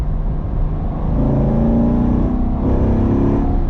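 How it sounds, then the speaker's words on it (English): A Lotus Emira driven on side roads through gear changes, its engine note rising steadily and close, then dipping briefly before climbing again. "around the side roads like this, just shifting through the gears"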